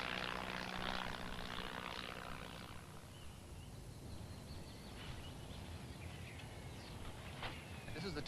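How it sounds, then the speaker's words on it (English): A Tiger Moth biplane built 41 years earlier runs its engine with a steady, rough propeller drone that stays loud throughout and eases slightly after a few seconds. "This is the Tiger Moth."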